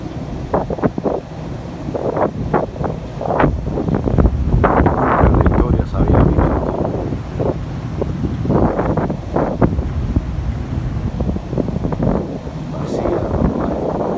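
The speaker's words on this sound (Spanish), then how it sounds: "playa desolada. Hace miles de años nunca se ha visto esto en la playa, en South Beach. Playa vacía." Steady wind and rolling surf on a deserted South Beach in Miami Beach, a continuous broadband rush with gusts buffeting the microphone throughout, while someone talks over it.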